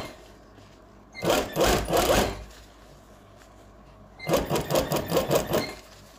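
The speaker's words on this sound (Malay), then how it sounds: "Kita boleh jahit dulu." A sewing machine stitching fabric for a layered skirt back, two close bursts of rapid rhythmic mechanical chattering separated by a quiet pause.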